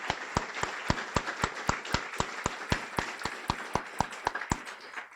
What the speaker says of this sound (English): just a round of applause to all you guys